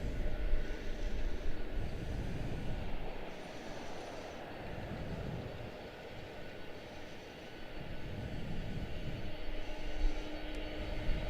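An aircraft rolls for takeoff on runway 19 Center at Washington Dulles airport, a continuous engine roar and rumble that swells and fades slightly over the span, heard at a distance.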